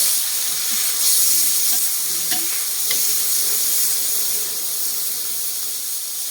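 Eggplant stir-fried in a hot pan gives a loud, steady sizzling hiss that runs the whole time, with a few brief scraping stirs and no voices.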